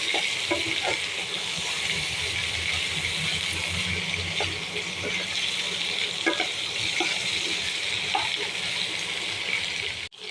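Okra frying in hot oil after onions, a steady dense sizzle running loud and close throughout, with occasional faint clicks of a utensil against the pan.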